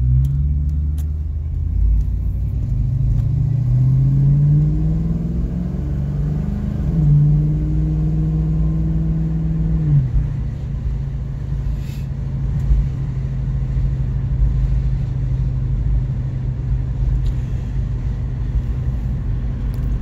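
A 1969 Mach 1 rumbles while driving, a low steady engine drone with one audible rise and shift in pitch partway through, close and fairly loud, with no talking.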